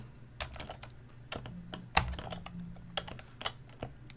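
Typing on a Tandy Color Computer keyboard while programming in BASIC, clacky key presses in irregular bursts with a heavier thump mid-way, close and moderately loud over a faint hum.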